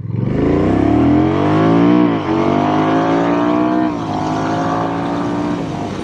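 Honda Rebel 1100 DCT motorcycle pulling away in sport mode, its engine note climbing steadily through the revs with a shift around two seconds, loud and close, then holding a steady drone.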